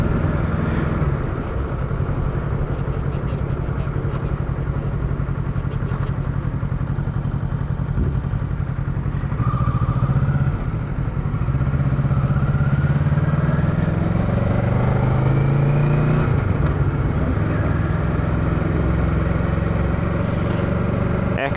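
Motorcycle ridden on a Finland motocamping trip near Sodankylä, a steady engine drone with wind rumble running throughout, with brief rising revs partway through and no talk.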